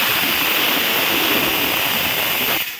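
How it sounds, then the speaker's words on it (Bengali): Steam hisses from a pressure cooker in a home kitchen, a loud, dense, unbroken rush close by that cuts off abruptly at the end, with no talking. "প্রেসার কুকারের আওয়াজ হচ্ছে বন্ধুরা"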